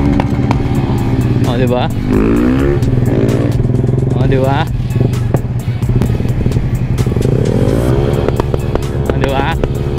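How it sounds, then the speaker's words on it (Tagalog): A Yamaha Sniper 150 motorcycle with an unlocked ECU revs hard, its exhaust popping and crackling with repeated backfires over a rising and falling engine note, while someone talks close by throughout. "So ito yung in-unlock natin na backfire."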